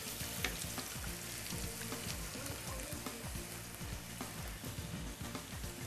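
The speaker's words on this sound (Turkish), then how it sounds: "Soğanlarımız güzelce bir kavrulurken" Onions sizzle steadily in a pot while being sautéed for Adapazarı-style pumpkin soup, a continuous crackling fry with small bursts of spattering and no talk over it.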